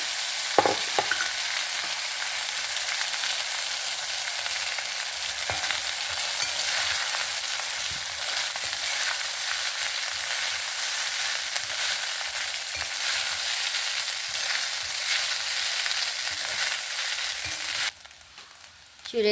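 Vermicelli for shavige chitranna, seasoned with salt, turmeric and lemon, is stirred and fried in a pan, giving a steady, hissing sizzle that stays even for a long stretch, with occasional soft stirring knocks before it cuts off near the end.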